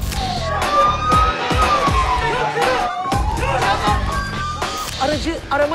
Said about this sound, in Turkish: Biz siren sesini verdiğimiz anda